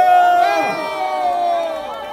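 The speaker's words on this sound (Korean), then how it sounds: "여러분 환호해 주시기 바랍니다." A crowd at an outdoor rally in front of the Seoul Central District Court cheering to welcome a speaker, a short voiced shout of many people that rises quickly and fades over about two seconds.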